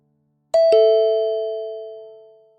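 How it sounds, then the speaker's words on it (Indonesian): Apartment doorbell ringing a single clear two-tone ding-dong, close and loud, the second tone ringing on and fading slowly. "Mendengar seperti suara bel langsung membuat dahi Davin mengernyit"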